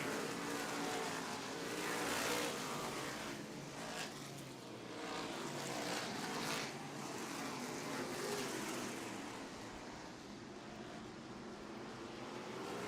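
Modified race cars roar around Star Speedway, a continuous loud blended engine drone with passing cars rising and fading in the distance, no voices over it.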